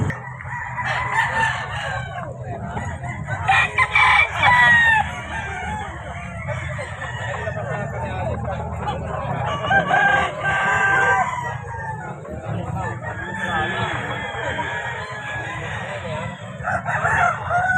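Roosters crow repeatedly and hens cluck at a busy live chicken market in Bulacan, a dense overlapping chorus of nearby birds over steady crowd murmur.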